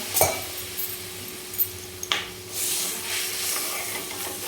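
Water is stirred in a cooking pot while making pitla, a chickpea-flour dish, with a few soft clinks of a spoon against the metal pot and a low swishing, quiet and close.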